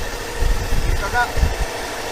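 A motorcycle with its blinker on idles at a roadside police checkpoint, a steady low engine rumble with faint pulsing running throughout the short stretch.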